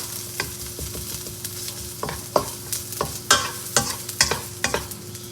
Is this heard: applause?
no